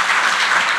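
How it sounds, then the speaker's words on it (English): A live audience at the 2014 Sam's Club finals bursts into a steady round of applause, a dense, even wash of many hands clapping close by for under a second, with no voices over it. "Let's give him a round of applause."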